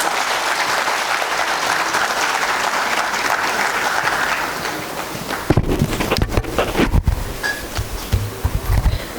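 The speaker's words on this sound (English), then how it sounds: "Please welcome him with a huge round of applause." Conference audience at a national CA student inaugural session applauding, dense sustained clapping for the first half, then thinning to scattered, louder individual claps and thumps near the end.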